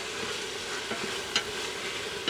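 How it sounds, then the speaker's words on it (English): Leeks, carrots and celery sauté in about three tablespoons of butter, with a soft, steady sizzle and occasional light stirring scrapes, fairly quiet and without talk. "we're going to saute our our leeks, our carrots and our celery in about 3 tablespoons of butter"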